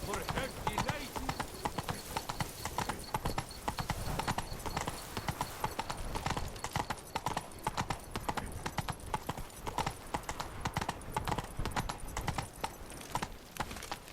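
Roach, the horse in The Witcher 3, gallops with rapid steady clip-clop hoofbeats that run throughout, layered under music, battle noise and voices.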